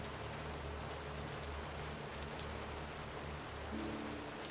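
Gentle rain falls in a soft, even patter on surfaces, quiet and continuous, with a faint low hum underneath and no voices.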